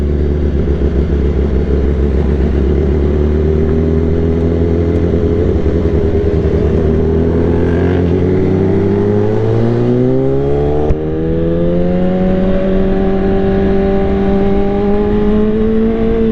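A superbike engine pulls hard under acceleration while riding, a loud, steady, close drone whose pitch climbs smoothly with rising revs, then briefly dips at a gear change before rising again, with no talking.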